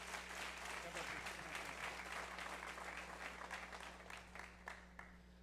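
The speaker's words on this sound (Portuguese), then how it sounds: "Aplauda ao Senhor." A church congregation applauds during an evening worship service, a continuous wash of many hands clapping that thins slightly toward the end, with a low steady hum beneath.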